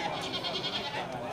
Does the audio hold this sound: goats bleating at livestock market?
yes